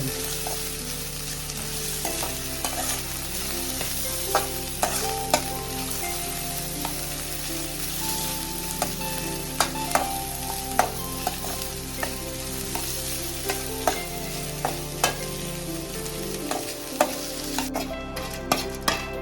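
Ginger frying in hot oil for a Kerala-style inji curry, a steady close sizzle and crackle throughout, punctuated by regular scraping clicks of a spoon stirring in the pan.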